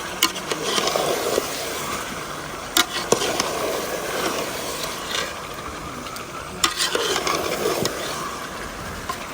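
Chicken pieces sizzle and are stirred in a pan of browned onion, tomato, garlic and ginger masala, a steady crackling fry with scraping spoon clacks in a village kitchen.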